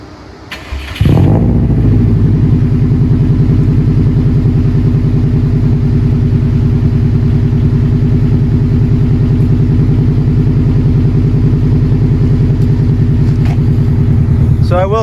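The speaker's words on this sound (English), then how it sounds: "show you how my Subi sounds with my exhaust setup" A Subaru engine with an aftermarket exhaust idles loudly and steadily after a semi-warm start, with a deep, throaty exhaust rumble close by.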